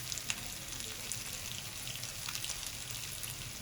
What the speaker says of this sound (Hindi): इन सबको अब इस तरह से हम खड़ा कर कर कुक कर लेंगे। इतनी प्यारी खुशबू आ रही है इसको इस वक्त फ्राई करने की।